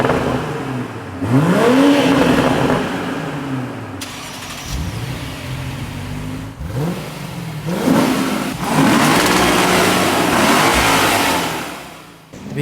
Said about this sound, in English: The BMW sounds great with the burbles and all, but sorry BMW, the V8 sounds way better on the Lexus IS